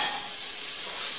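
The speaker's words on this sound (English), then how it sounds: "cook the onion a little just till it's soft and translucent" Chopped onion and minced garlic frying in a pan for a cinnamon chicken stew, a steady close hiss of sizzling oil with no voices.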